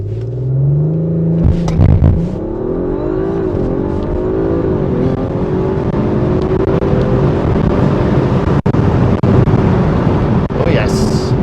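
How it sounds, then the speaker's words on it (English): An Audi RS5 Sportback launches hard from a stop sign, its engine note sweeping up loudly through a series of rising revs and gear changes, close and continuous, with a sharp click near the end. "Might as well start off this this drive with a little bit of a launch."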